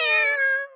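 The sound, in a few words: person imitating a cat's girly meow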